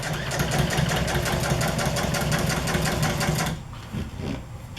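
A sewing machine stitches a French seam in a fast, even mechanical whir and chatter for several seconds, then stops sharply, leaving quieter handling sounds.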